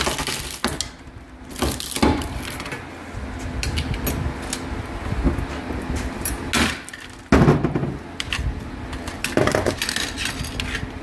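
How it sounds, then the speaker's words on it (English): Glass hard drive platters being smashed and shattered at a computer recycling site, with repeated sharp crunching and clinking impacts at irregular intervals over a steady rumbling background, fairly close and loud. "Now we shattered all the glass."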